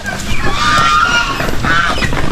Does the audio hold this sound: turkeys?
yes